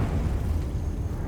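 A Confringo fire spell blast in Hogwarts Legacy, a dense low rumbling burst that fills the short moment with a steady roar and no clear attack.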